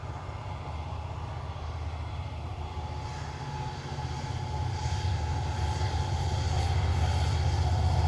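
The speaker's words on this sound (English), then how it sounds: "And there's another train." A train rumbles past with a steady low roar that slowly swells louder, a continuous mechanical drone with no talking.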